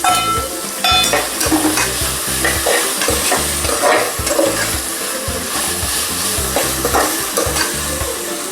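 Ginger garlic paste and sliced tomatoes fry in a pan for a kheema egg pulao, with a loud, close sizzle broken by repeated scraping and stirring strokes throughout.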